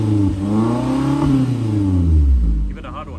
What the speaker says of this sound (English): go ahead and give it a rev